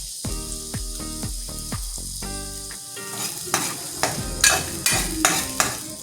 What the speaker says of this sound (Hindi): एक बड़ी प्याज थी हमारे पास जो हमने काटी है और इसे अब हम फ्राई करेंगे